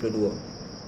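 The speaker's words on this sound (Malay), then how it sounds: "Memokak betul cengkerik ni kan." Crickets chirp loudly and steadily throughout a brief moment during an indoor religious lecture on hadith, a continuous shrill trill with no speech over it.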